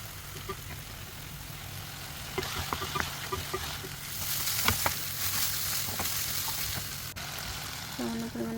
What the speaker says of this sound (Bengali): এখন আমি এখানে পানি অ্যাড করবো।